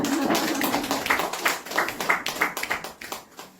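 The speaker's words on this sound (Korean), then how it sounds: "박수 쳐주세요." A lecture audience claps, a moderately loud burst that thins into a few fading, irregular claps near the end.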